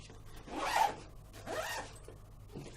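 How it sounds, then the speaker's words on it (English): Zipper on a padded carrying case for an 18-inch GEEKOTO ring light being pulled closed in two long close strokes and a shorter final tug, quiet with no talking. "And it zips on up."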